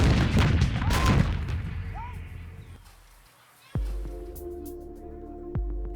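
Artillery shelling and gunfire in combat against Boko Haram: a cluster of heavy, rumbling booms and cracks up front, then quieter stretches with a low steady drone and a couple of sharp distant bangs.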